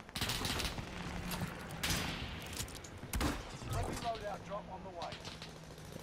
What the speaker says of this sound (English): Them bullets are coming from up.